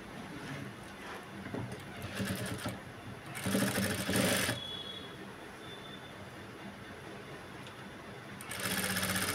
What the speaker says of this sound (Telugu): అందుకని నేను ఇక్కడికైతే స్టిచ్ వేస్తున్నాను